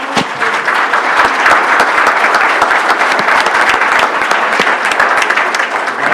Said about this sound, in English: Let's give this young man a round of applause.